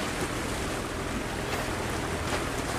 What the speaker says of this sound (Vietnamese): Sau những giờ đánh bắt ngoài khơi anh cũng đã về tới cửa cảng rồi.